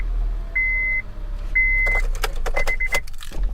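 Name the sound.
car engine running after starting up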